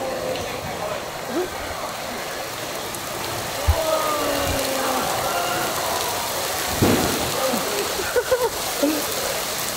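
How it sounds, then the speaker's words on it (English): Steady broadband hiss of heavy rain pouring down outdoors in Singapore, constant throughout, with occasional louder splashes and faint background rumble. "It is pouring with rain, like insane rain."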